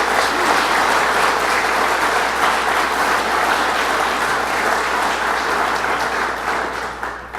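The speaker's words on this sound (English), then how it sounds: "So let's give her a round of applause and thank her." An audience at the opening of a rebuilt fire station in Upper Jay applauds a state legislator. Loud, dense, continuous clapping holds steady for several seconds before easing off slightly at the close.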